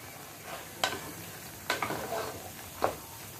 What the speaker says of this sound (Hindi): अब इसको भी मैं एसी में डाल दूंगी ताकि ये साथ में दोनों भून जाए